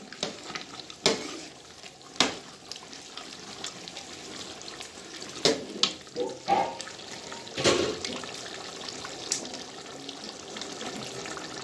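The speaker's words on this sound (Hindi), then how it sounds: "अब हम इसमें 1 kg मटर डाल देंगे। मिक्स करेंगे।" Fresh peas being stirred into chicken keema frying in a large pot, with scattered scraping knocks of the spoon over a low steady sizzle, close by.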